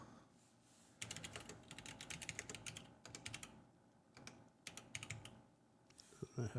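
Fingers tap out quick clicking runs on a computer keyboard at close range. The bursts of keystrokes are separated by short pauses, and a faint voice shows at the end.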